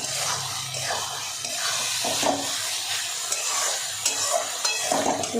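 Fish frying in a pan on a home stove, made without coriander leaves: steady broadband sizzle with scraping stir strokes and occasional spatula knocks, close and continuous throughout.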